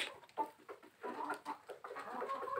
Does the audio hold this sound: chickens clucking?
yes